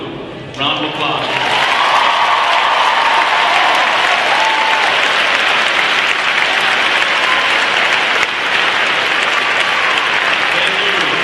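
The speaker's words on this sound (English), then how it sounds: "Round of applause." Audience applause at a 2018 senior assembly after students' names are read, a loud, dense crowd of clapping that swells quickly and holds steady for over ten seconds, with voices blended into the noise.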